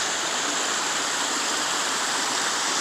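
A waterfall pours into a stream in Maine, a steady broadband rush of water, close and loud, unbroken throughout.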